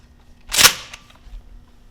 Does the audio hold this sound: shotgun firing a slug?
yes